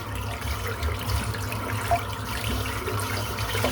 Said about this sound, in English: Just rinse the brush out now. A little bit of lukewarm water.